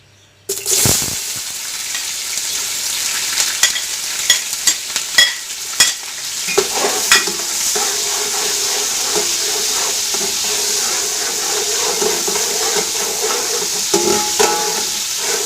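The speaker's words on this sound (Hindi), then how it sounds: "अब हम इसमें प्याज डालेंगे।" Onions hit hot oil in a pot for mutton pulao with a loud initial sizzle, then fry with steady hissing and crackle while being stirred, scraping clicks scattered over the first half.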